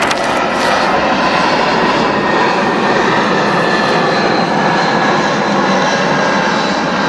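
A fixed-wing airplane passes overhead outdoors, a steady loud broadband engine roar that holds for the whole stretch without fading, with no talk over it.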